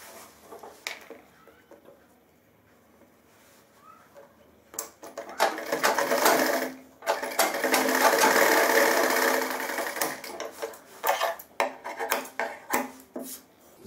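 Close up, a sewing machine stitches a trouser back pocket with a loud, steady whirring run in the middle, framed by irregular clicks and handling knocks before and after.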